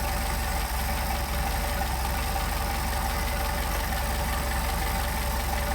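Mercedes 190SL engine idling on Solex 44PHH carburetors, a steady, even, close mechanical idle with a low rhythmic pulse and constant hum, no voices.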